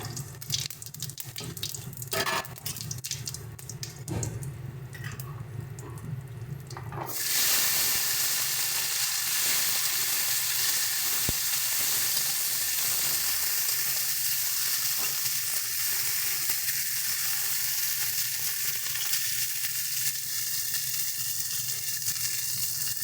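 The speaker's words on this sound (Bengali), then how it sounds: "সামান্য একটু তেল দিয়ে দিচ্ছি গোটা জিরে দিয়ে দেবো" Whole cumin seeds dropped into a little hot oil in a pan for a fish curry with drumsticks, giving a loud, steady broadband sizzle that flares up suddenly and holds alone for the rest of the clip.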